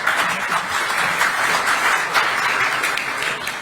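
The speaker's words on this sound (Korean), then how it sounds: "다시 한번 큰 박수로 감사의 표시해 주시기 바랍니다." A lecture audience at a political forum gives a steady, dense round of applause that fills the hall, many hands clapping at once.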